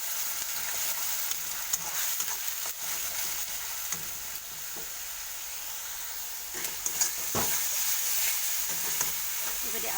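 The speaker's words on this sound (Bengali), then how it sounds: "ভালো করে ভাজা করব।" Onion paste fries and sizzles in a pan as a spoon stirs it, making a steady close hiss with scattered scraping strokes and small clatters throughout.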